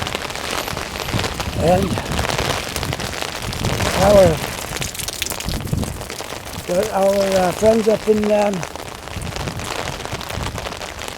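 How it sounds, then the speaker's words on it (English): Heavy rain falls in Halifax as a steady, fairly loud patter, with someone talking over it throughout. "I'm not going to complain about the rain we're getting now."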